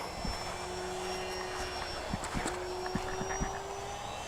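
An FMS Super EZ radio-controlled airplane passes fast over a grass runway with a thin, rising engine whine at moderate distance. Faint ticks and clicks sit in the background.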